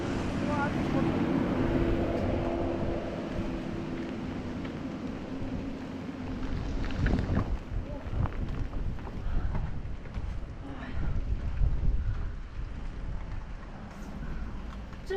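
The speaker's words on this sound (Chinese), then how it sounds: "突然之间下大雨了，我把荷包跟睡袋都遮住了。 我在桥洞躲一下雨。" Heavy rain falls during a solo bicycle trip through Tibet while sheltering under a bridge, a dense roaring wash of water with gusty wind and scattered thumps, steady and loud throughout with no clear voices.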